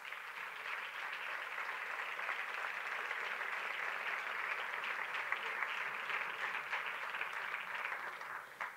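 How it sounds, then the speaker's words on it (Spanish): A crowd at the Liga Femenina Endesa season launch applauds as the anthem performers are called to the stage, a sustained, fairly distant wash of clapping that holds steady for several seconds. "Y vamos a pedir un fuerte aplauso, que vengan y nos acompañen ahora al escenario"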